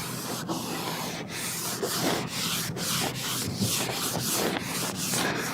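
Rhythmic back-and-forth hand sanding scrapes the metal body of an F350 pickup truck. The strokes are steady and close, with no voices.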